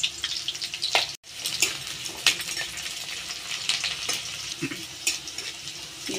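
Onions, green chillies and black cumin sizzle steadily in hot oil for a spicy mustard hilsa curry, with a constant crackling hiss and occasional louder spits and stirring clicks close by.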